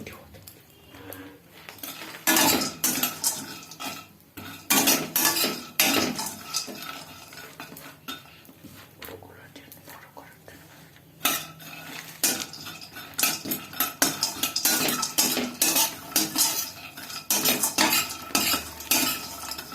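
A spoon stirs a granola mixture in a bowl, producing repeated close scraping and clinking bursts in irregular rhythm with short pauses between strokes, no talking.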